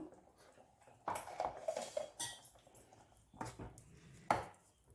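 Ginger-garlic paste ground with cumin and coriander is stirred in a pan for matar paneer, giving close scraping and clinking of a metal spoon against the pan in several short bursts, fairly quiet, with no talk.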